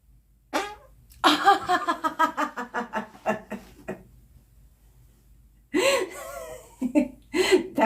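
A person breaks wind in a quiet room, a short burst followed by a stretch of pulsing, rhythmic laughter, then a pause and more loud bursts of sound and laughing close to the microphone.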